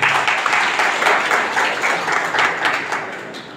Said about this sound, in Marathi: प्रास्ताविकात दराडे परिवारासाठी एकदा जोरानं टाळी वाजवा